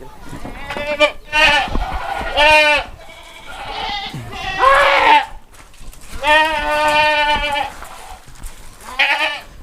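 Jawa Randu goats on a goat farm bleat repeatedly and loudly, several drawn-out wavering calls overlapping in close succession, with brief gaps between them.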